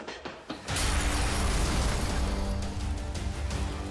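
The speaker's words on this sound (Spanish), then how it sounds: "hubo una explosión" A couple of sharp knocks, then a sudden loud acetone explosion in a prison cell that rolls into a sustained, roaring rumble filling the rest of the clip.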